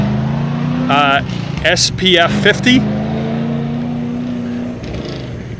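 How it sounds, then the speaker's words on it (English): A vehicle engine revs steadily somewhere behind, its low tone rising a little and holding for several seconds at moderate loudness while someone talks over it near the start. "Somebody's back there trying to show off their engine, their vehicle"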